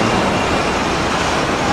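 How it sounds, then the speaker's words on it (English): Two trams pass on a Hong Kong street, a loud, steady rolling rumble of wheels and traffic noise close by, with no pause. "Here come two trams."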